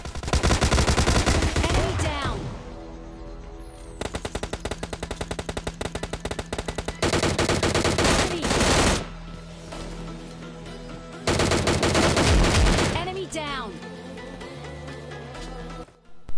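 Rapid automatic M16 rifle bursts and heavy double-barrel shotgun blasts ring out in a mobile battle royale game set around a stadium, loud and dense with short pauses between volleys.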